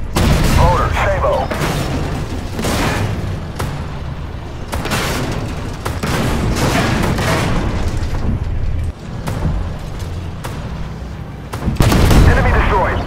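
A tank cannon firing sabot rounds in a modern tank video game, with heavy booms repeating every second or two amid gunfire and battle noise, under radio-style crew voices.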